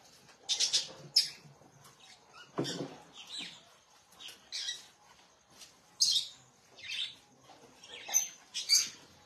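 Birds chirp near seeds scattered for them, in short, scattered bursts of tweets and squeaks spread over several seconds, fairly faint against a quiet background, with no talking.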